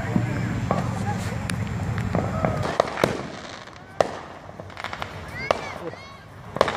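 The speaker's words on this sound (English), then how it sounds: "Okay, so we all got all those cakes and shells ready to go." A July 4th fireworks finale with cakes and shells fires a rapid, irregular string of sharp pops and booms, some near and loud, others distant, while people talk and shout throughout.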